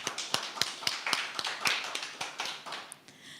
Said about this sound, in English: Joe, a round of applause.